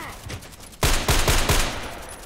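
Four loud sniper rifle shots from a DT SRS in the Contract Wars shooter game crack out at a steady pace, each with a sharp boom and short tail over faint in-game background noise.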